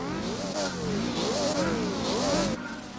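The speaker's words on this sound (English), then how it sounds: "Oh, listen to the sound of that turbo." In Gran Turismo 4, a turbocharged car's engine revs up and down through repeated gear changes, each climb in pitch cut by a short whoosh, loud and steady with no voices over it.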